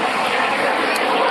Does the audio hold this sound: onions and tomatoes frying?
no